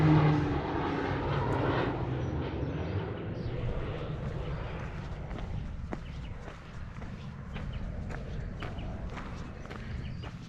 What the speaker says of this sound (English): There's a little aeroplane flying around doing all sorts of tricks.